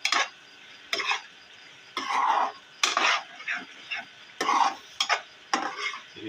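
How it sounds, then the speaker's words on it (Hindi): Spoon stirring dal mash with garam masala in a pot, thick wet slaps and scrapes in an irregular rhythm of short bursts, close up, with a faint simmer between. "इसे अच्छी तरह मिक्स कर लेंगे"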